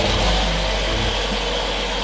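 Brand-new engine of a vintage military vehicle, a Sherman tank, running steadily with a deep, constant idling rumble, close and loud, with no talk.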